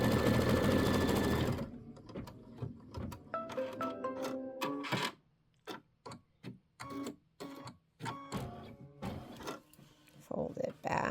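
A sewing machine runs steadily while stitching a Kimberbell Hello Sunshine pieced quilt block, then stops and gives way to irregular clicks and taps of fabric handling, with some talking nearby.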